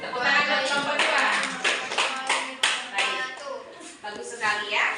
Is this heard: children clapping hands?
yes